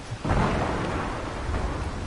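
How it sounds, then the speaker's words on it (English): Rain and rolling thunder in the video game Ark Survival Evolved, a steady loud wash of rainfall with a low rumble, heard alone without talk. "It's raining."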